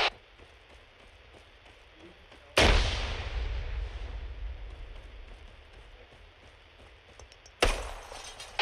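Frag grenade explosion in the military shooter Arma 3, a sudden loud blast with a long rumbling decay over a quiet ambient background, then a second sharp blast starting near the end.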